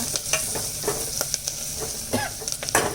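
Tempering spices sizzle in hot oil while a spoon scrapes and stirs the pan in quick irregular strokes for a gongura dal, close and moderately loud.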